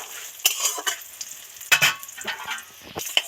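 Homemade bori lentil dumplings frying in oil in a kadai, a steady crackling sizzle punctuated by sharp scraping stirs of a spatula, close up with no voices.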